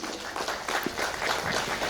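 An audience at a charity launch event with the Vizag Ladies Circle claps steadily, producing dense, moderately loud applause with no voice over it.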